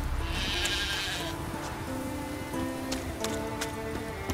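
Sheep in The Witcher 3 bleat several times in short, wavering calls, one after another at moderate volume over a soft bed of falling rain, with no speech.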